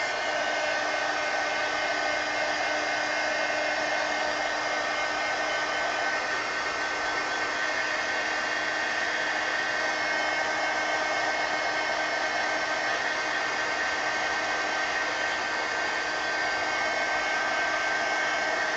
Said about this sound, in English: I'm going to hit this with the heat gun